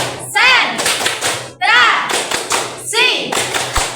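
A class of children claps a short patterned concentration rhythm together in steady beats, mixed with their voices calling out, loud and close.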